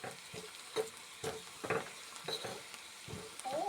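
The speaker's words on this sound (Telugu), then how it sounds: "ఇట్లా ఆనియన్స్ ఫ్రై చేసుకోవాలి." Onions fry in a pan with a soft, uneven sizzle, broken by intermittent stirring scrapes and clatters at close range, with no talk.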